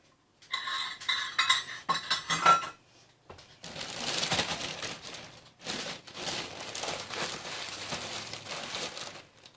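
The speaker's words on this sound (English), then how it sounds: "And then we can just give that a good stir." Vegetarian Bolognese sauce is stirred in a pot, with metal clinks of a utensil against the rim at first, then thick wet scraping and churning strokes in uneven bursts, close by and free of talk.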